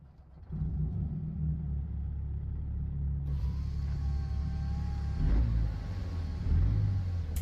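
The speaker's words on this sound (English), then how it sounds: "we'll go ahead and climb in the truck, get her fired up, and let's do some trucking" A Cummins X15 truck engine in American Truck Simulator, using a sound mod, starts with a quick swell into a deep, steady diesel rumble, then runs on with a slight rise in revs later.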